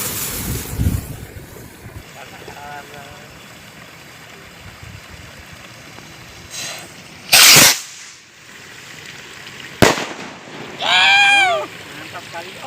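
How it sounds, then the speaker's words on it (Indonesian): Two sharp bangs from rocket firecrackers launching ring out about two seconds apart, each followed by a rising whistle, over steady wind noise outdoors. "Selanjutnya kita nyalakan mercon luncur."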